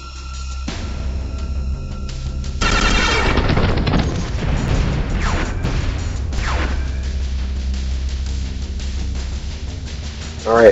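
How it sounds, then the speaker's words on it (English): In Star Traders Frontiers, a spaceship combat plays out with layered weapons fire and explosions: booming blasts, sharp zaps and sweeping energy tones over a continuous low rumble, ending in a quick rising burst. "We are going to open fire with all weapons."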